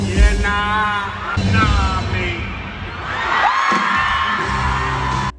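A concert crowd of Taylor Swift fans in Australia screams, whoops and cheers loudly and continuously, with shrill yells rising over a dense roar of the audience throughout.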